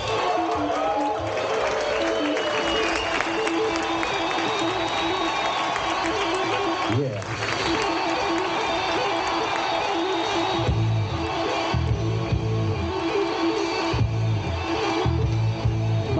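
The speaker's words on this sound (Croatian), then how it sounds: "Sada ćemo jednim velikim pljeskom pozdraviti Bari Aktara!" Wedding guests, about 290 people in a hotel hall, clap and cheer in a sustained loud roar of applause, with music thumping underneath.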